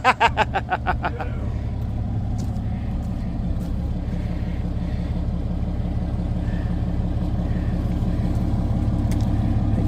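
A Dodge Cummins diesel engine with stack exhaust cranks with rapid starter chugs, fires, and settles into a deep, lumpy rhythmic idle, loud and close with no talking.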